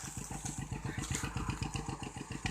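Thai iTaen farm truck engine hauling a load of sugarcane out of a field on a rough track, a steady fast-thumping single-cylinder putter running continuously and close.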